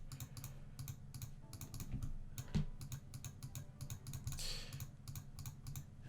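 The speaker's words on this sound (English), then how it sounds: "I'm sure the clicking over and over again is getting annoying." A computer mouse clicked over and over during digital painting of a tree branch: faint, close, quick clicks in an uneven steady run, with no voice.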